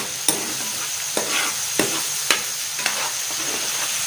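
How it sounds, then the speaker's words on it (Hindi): Curd being stirred into a spice masala for fish fry, heard as close, rhythmic scraping and tapping strokes of a spoon against the pan, about five distinct knocks over a soft background hiss. "दही इसको कर लेते हैं अच्छी तरह मिक्स"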